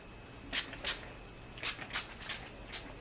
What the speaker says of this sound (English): I'm going to start off with a little bit of heat protectant spray.